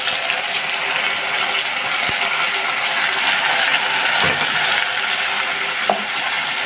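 Onion paste hits hot oil in a pan and fries with a steady, loud broadband sizzle, broken by a few faint scrapes and clinks of a utensil.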